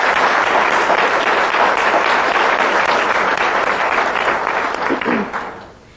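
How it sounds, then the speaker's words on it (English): Dense audience applause for officials at a city's State of the City address, a loud continuous roar of many hands that holds steady, then fades out at the close. "Let's give a round of applause to all of these folks"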